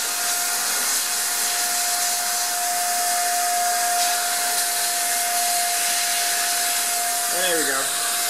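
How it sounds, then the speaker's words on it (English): Paint sprayer running continuously up close, a loud steady airy hiss with a constant tone riding through it, and a brief voice-like sound near the end. "Let me adjust my sprayer."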